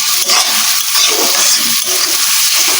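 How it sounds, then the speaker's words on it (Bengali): Chopped onions, two medium ones, frying in oil for a chicken dish, a loud, dense, continuous sizzle close up with no pauses. "এখন পেঁয়াজটা তেলের মধ্যে ভেজে নেব।"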